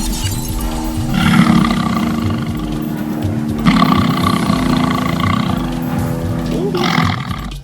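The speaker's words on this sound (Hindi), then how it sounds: "बंगाल टाइगर की दहाड़ सुनिए।" A Bengal tiger's deep, loud roars come in three surging bursts over a dense, steady background, each swelling and fading before the next.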